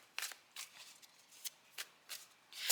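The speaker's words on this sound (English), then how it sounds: "I'm gonna pull a card." Tarot cards are shuffled in a handful of soft, papery riffling bursts spaced about half a second apart, ending with a brisker flick as a card is pulled; quiet and close, with no talking.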